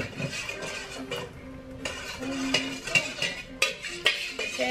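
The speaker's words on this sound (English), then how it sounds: "So I'm just whisking the mixture." Spoon clinking and scraping against a bowl while homemade pizza dough mixture is stirred and whisked, with irregular taps and scrapes at close range, several sharper clinks near the end.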